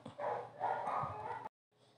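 Dogs bark and yip continuously in the background at a moderate distance, then the sound cuts off abruptly and only faint noise remains.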